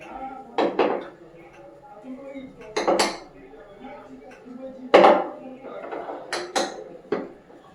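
Spice containers clinking and clattering as they are put away and shut one by one, a few sharp knocks of lids and jars standing out from quieter kitchen handling sounds.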